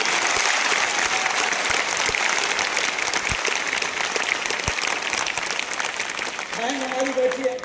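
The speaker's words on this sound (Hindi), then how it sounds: "एक बार सबसे बड़ी ताली" Audience applause at a railway loco running staff gathering, a dense sustained wash of many hands clapping for about six seconds, fairly loud and steady, then a voice begins speaking as it tails off.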